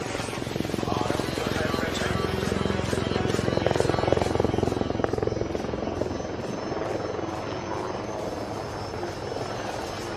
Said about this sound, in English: here she is, the light combat helicopter Prachand, right in front of you